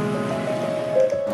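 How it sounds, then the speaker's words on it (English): Heavy rain at night in Italy, heard during a motorcycle ride, a dense, steady wash of rushing noise under a faint engine-like drone, loud and close throughout. "Italy is raining heavily tonight."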